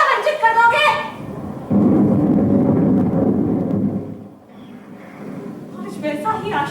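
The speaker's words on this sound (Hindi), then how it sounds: "वैसे ही मेघ गरज रहे हैं" A stage effect of thunder and rain in a theatre production of the Hindi play Aashadh Ka Ek Din: a deep, sustained rumble swells between lines of spoken dialogue, then fades.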